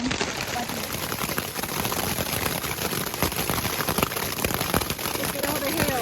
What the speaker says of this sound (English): we got caught by a hailstorm